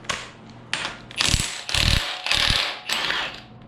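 A ratchet wrench with a 15/16 socket clicks in repeated short bursts while loosening a bolt during a 6.0 engine teardown, close and fairly loud with no talking.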